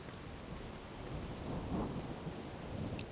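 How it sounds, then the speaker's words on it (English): Rain and rumbling thunder fill the Maelstrom zone in World of Warcraft, a dense steady downpour hiss with a low swelling rumble midway, moderately quiet, with no speech. "we got the rain effect"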